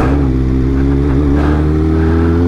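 Graves Motorsports Kawasaki ZX-4RR race motorcycle engine holding a loud, steady high rev, its dense harmonic drone sustained and close for the whole stretch with no voices.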